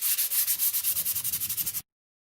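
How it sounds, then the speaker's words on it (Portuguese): Quick back-and-forth strokes of 220-grit sandpaper on a painted wooden piece, a close, rhythmic scratchy rubbing of about twenty passes that stops suddenly. "Agora, com uma lixinha madeira 220."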